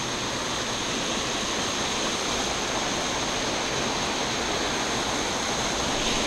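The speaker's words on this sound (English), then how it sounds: "there's moving water right here. You can hear it." Continuous close roar of falling water, a dense unbroken rushing hiss that stays level throughout with nothing else on top.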